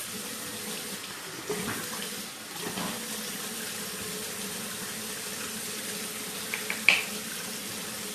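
Water running from a sink faucet while someone wets their face, a soft steady flow with a few light splashes and small knocks, close and fairly quiet.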